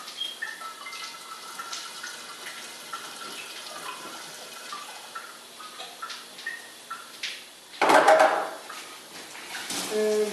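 Water poured from a tap into a container to mix canned juice concentrate, a rising gush near the end following quieter kitchen clatter and trickling.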